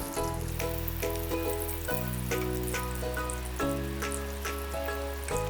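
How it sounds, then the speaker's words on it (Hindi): Chicken pieces shallow fry in a pan over low flame, giving a soft, steady sizzle and crackle under louder sustained music. "चिकन के तमाम तर पीसेस को हमने शैलो फ्राई कर लेना है"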